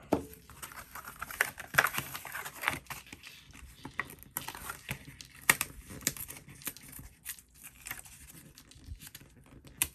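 Scissors snipping fuzzy edges off white cardstock for a winter-themed art journal page, a run of small close crisp cuts and faint paper rustles, quiet and irregular with no talking.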